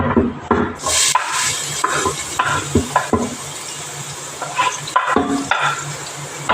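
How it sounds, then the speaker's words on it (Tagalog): Chopped onions dropped into hot oil in a pan sizzle steadily while a spoon stirs and scrapes, giving repeated close clinks and scrapes over the frying hiss, with no talking. "Mga kasandok lagyan natin sibuyas."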